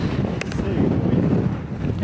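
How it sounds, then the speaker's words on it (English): Strong Meltemi wind on Santorini buffets the microphone with low rumbling gusts, heavy and continuous over the short stretch, with a voice faintly present. "we got here and it was incredibly windy"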